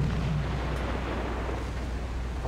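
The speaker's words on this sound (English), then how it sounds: "Big explosion on this little freighter here." A torpedoed freighter explodes in the submarine game Silent Hunter 4, giving a dense, sustained low roar with heavy rumbling and crackle that stays loud across the clip, with no talk.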